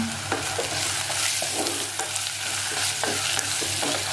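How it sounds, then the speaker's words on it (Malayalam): Ingredients for clay pot biryani sizzle in a hot pan while a spoon scrapes and stirs in repeated strokes, close up and steady, with no talking. "ഇത് നന്നായിട്ടൊന്ന് നമ്മൾ എന്ത് ചെയ്യുക, വഴറ്റി കൊടുക്കുക."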